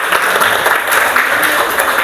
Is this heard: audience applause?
yes